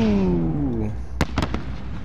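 An illumination flare launched in the video game Call of Duty Modern Warfare: a falling whistle-like tone fades out, followed by a loud sharp pop and a few quicker crackling bursts.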